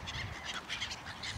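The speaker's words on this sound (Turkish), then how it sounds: "Sizleri martılarda baş başa bırakıyoruz." Seagulls call again and again over steady wind noise outdoors at dusk, with overlapping honking cries one after another and no talking.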